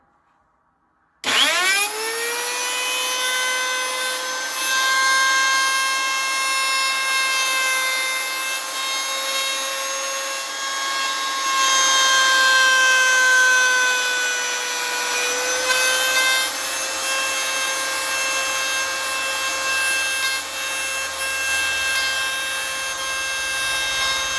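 A router whines steadily at high speed while cutting a mortise for a guitar neck block in wood, starting abruptly after a brief silence and holding a loud, continuous pitch with slight shifts as it bites into the cut.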